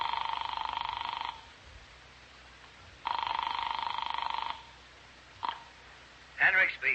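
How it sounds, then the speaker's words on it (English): Telephone tones in a radio drama: two long, steady buzzing tones about a second and a half each with a pause between, then a brief click and a short burst of a voice at the end. "I dialed Cal Hendricks' number in New York."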